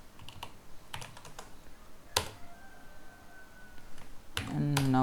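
A command typed on a computer keyboard during a Docker install on Fedora 43, heard as close clusters of quick key clicks with pauses between bursts and a sharper keystroke midway.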